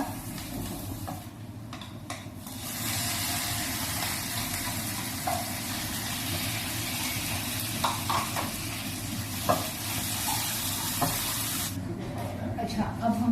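Garlic sizzles steadily in melted butter in a pan, a continuous loud frying hiss with occasional stirring clinks, close up.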